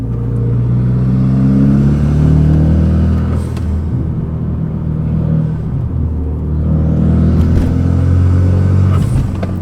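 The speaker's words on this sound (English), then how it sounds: "just that little bit of acceleration when that turbo kicks in" Renault Megane RS turbocharged engine pulling hard under acceleration, a loud, steady rumbling drone with rising harmonics heard close from inside the cabin, no voices.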